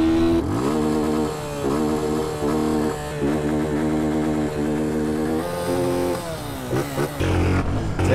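A 250 motorcycle adapted with MT-03 parts revs loudly and steadily up close, its engine note rising and falling in repeated throttle blips over about eight seconds, with no talking.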